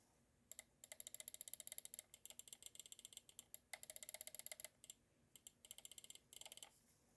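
A gaming mouse scroll wheel clicks in rapid ratcheting bursts. The rolls are quick, crisp and tightly spaced, broken by short pauses, and sound close and quiet with no talking.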